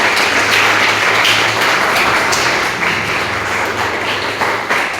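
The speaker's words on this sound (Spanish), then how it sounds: "Démosle un aplauso a los hermanos." A church congregation claps for a visiting pastor and his wife, dense sustained applause from many hands, loud and close, swelling slightly then easing.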